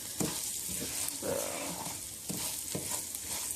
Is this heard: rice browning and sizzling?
yes